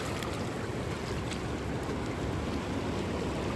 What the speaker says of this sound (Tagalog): Ramdam na ramdam mo yung uh, hampas ng alon